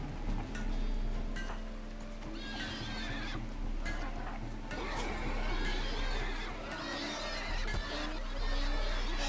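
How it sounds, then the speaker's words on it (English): An eerie, horse-like animal in the RimWorld video game gives repeated neighs and whinnies over clip-clop hoofbeats and game ambience, fairly loud and continuing throughout with no voices. "That's the noise if, like, Ghost Rider rode a horse. What his horse would sound like."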